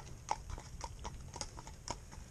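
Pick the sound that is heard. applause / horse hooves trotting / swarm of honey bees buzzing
horse hooves trotting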